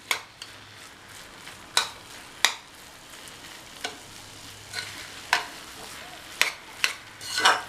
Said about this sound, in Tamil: எல்லாத்தையும் சேர்த்ததுக்கப்புறமா கட்டி இல்லாமல் கிண்டிகிட்டே இருக்கணும்.